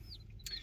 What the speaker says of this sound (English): these are basically replacement laying birds.